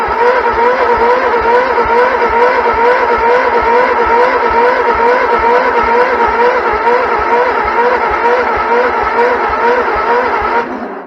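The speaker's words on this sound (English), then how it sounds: "Let's crank the engine and see if we get fuel at this point." A Cub Cadet barn-find tractor engine cranks on the starter without catching, a steady rapid rhythmic churning held evenly for about eleven seconds, close and loud, then cut off.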